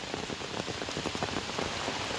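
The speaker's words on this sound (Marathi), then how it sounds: "पाऊस तर खूप जोरदारच आहे." Dense, heavy monsoon rain pours down continuously over rice paddies in Konkan, a loud close patter drumming on surfaces with no voices.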